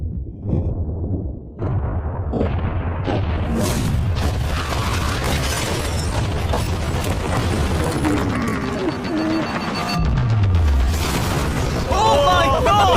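A yacht blown up in an outdoor challenge, a huge booming explosion that rumbles and roars continuously for many seconds, loud and close, with shouting voices mixed into the din.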